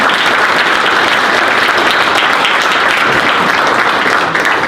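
Audience at a Veterans Day luncheon applauding steadily and loudly, a sustained, even wash of many hands clapping with no break.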